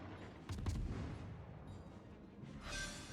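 Ship artillery firing in World of Warships, a muffled heavy boom near the start with rumbling low-end blasts and a rising whoosh toward the end, set against a continuous battle din.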